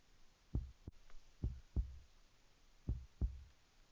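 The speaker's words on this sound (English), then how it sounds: "I can feel my heart pounding against my chest." A pounding heartbeat sound effect in an audio drama gives three low double thumps, lub-dub, spaced evenly over quiet background.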